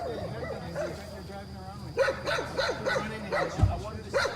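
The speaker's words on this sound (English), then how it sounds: "Somebody shut that fucking dog up" A dog barks and yips repeatedly nearby in a rapid rhythm, with people talking over the barking throughout.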